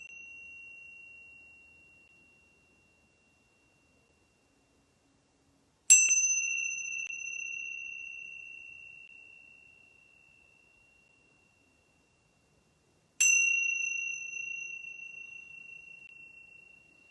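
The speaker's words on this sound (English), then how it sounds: "let the sound of the bell be an invitation to just come into the present moment" A meditation bell is struck twice, several seconds apart; each clear, pure tone rings out loudly and decays slowly into near silence before the next strike.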